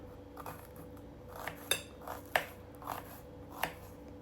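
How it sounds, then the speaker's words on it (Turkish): A few sharp knife taps against a cutting board while dicing onions, at an uneven pace, close and fairly quiet, with a soft clink of metal in between. "Soğanları da küp küp doğrayacağım."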